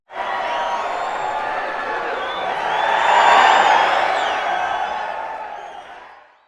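A large crowd cheers and whoops at a pregame football kickoff show at Screwballs in King of Prussia, a steady dense roar that swells in the middle and fades toward the end.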